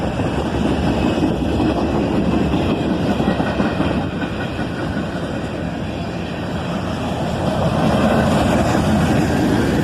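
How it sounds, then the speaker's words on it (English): A northbound manifest freight train led by a single ES44AC locomotive passes close by, with a loud continuous roar of wheels and cars on the rails, some clickety-clack and no talking. "Just a single locomotive on the front of this northbound manifest train, an ES44 ACH."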